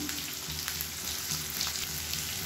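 Dried chillies and curry leaves sauté in hot oil for an idli and dosa chutney, a steady close sizzle with faint crackles throughout and no talk.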